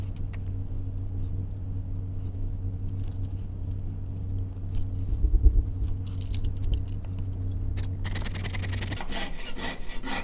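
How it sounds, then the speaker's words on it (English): A jeweller's saw blade cuts through the inner part of a metal signet ring, giving a faint, steady, rhythmic rasping over a low background hum, with a brighter scraping burst near the end. "I'm going to put my saw blade through that and start cutting"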